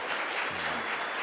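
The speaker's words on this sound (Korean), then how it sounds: "우리 마지막 팀 수고했다고 박수 한번 해주시죠" A school audience in a Korean high school mock-trial competition applauds the final team, a dense, steady wash of many hands clapping at moderate distance, with no speech over it.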